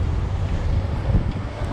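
Wind gusting through Evora, Portugal on a cold November day, a steady low rumble of buffeting against the microphone that swells briefly near the end, with no other sounds.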